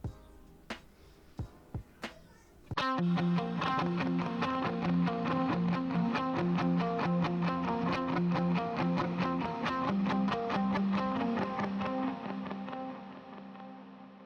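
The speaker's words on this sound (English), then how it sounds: "Let's hear that with some overdrive and a delay." Electric guitar with overdrive and delay into a Boss RV500 reverb: a few muted picks, then a sustained, gritty chord pattern with repeating delayed notes and a wide reverb wash that gradually fades.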